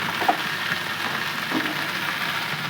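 Garlic tempering sizzles in hot oil with red amaranth greens, a steady crackling fry with a few brief louder pops, close and continuous with no talking.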